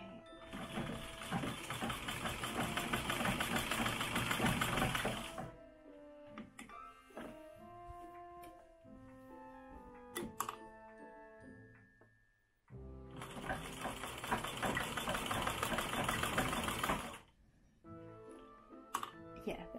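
A vintage Singer treadle sewing machine, about a hundred years old, runs in two loud, steady bursts of rapid mechanical rattling. Between them comes a quieter stretch of clicks and ringing tones.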